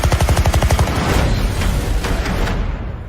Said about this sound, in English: They've opened fire on journalists.